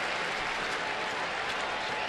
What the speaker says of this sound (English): the fans and his teammates applaud him as he gets the runner down to second base